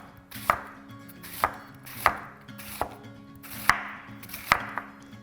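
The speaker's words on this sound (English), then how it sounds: "And we want this very finely sliced." A knife finely slicing fresh white fennel on a cutting board, with steady, evenly spaced sharp chops roughly every half second, close and clear, with no voices.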